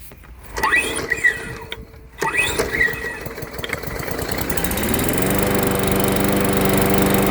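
A bargain walk-behind lawn mower engine is pull-started: two sharp recoil pulls sound close up, then the engine catches and settles into a loud, steady running drone that continues to the end.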